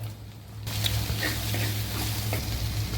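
Onions and green chillies frying in a pan for egg curry: a quiet start gives way to a steady, crackling sizzle with a low hum underneath.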